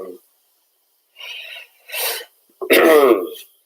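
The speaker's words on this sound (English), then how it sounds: "I seem to have a bit of a croaky cough." A person gives a few rough, croaky coughs and throat-clearing bursts close to the microphone, spaced by short silences, ending in a louder, raspier cough.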